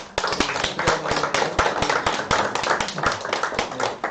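Welcoming applause from a congregation during an Anglican church service in Jeju, dense and steady hand clapping close by, with sharp individual claps standing out throughout.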